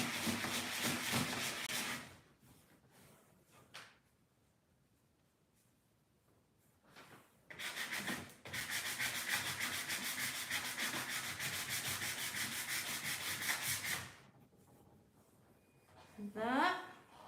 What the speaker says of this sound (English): So I'm just sanding off those rough edges.